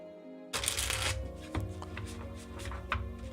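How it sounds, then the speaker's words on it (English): Tarot cards are shuffled close up in a long riffling burst followed by several quicker flicking shuffles, with a low hum and faint background music underneath. "final shuffle and cut"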